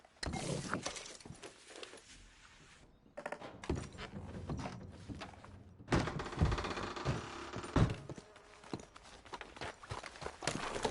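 Horse hooves in a video game, irregular clip-clopping thuds and knocks at close range over scattered clunks and rustles, loudness rising and falling throughout.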